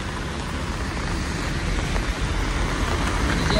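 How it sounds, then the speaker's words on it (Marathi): Road traffic passes on a bridge near Lonavala during heavy rain, a continuous wash of rain and tyre noise that swells slightly toward the end. "ट्रॅफिक मध्ये फसलंच सगळं"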